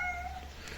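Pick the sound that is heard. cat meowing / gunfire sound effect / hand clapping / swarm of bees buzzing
cat meowing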